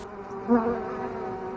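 A close, steady drone of buzzing bees continues throughout, swelling slightly in loudness partway through, during small-batch sugar water mixing.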